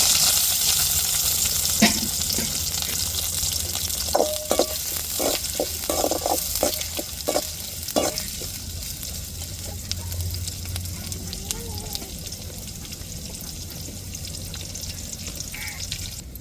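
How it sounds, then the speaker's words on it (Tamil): Onions frying in a pot with oil, a continuous sizzle with a run of distinct scraping stir strokes in the middle, then a softer steady fry, fairly close and with no talk. "இப்போ வெங்காயம் சேர்த்துக்கிறோம்"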